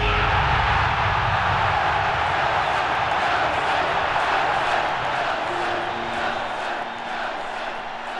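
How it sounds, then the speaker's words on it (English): A huge stadium crowd roaring and chanting for Nelson Mandela, a dense, loud, sustained wall of voices that eases slightly toward the end. "The crowd just went wild"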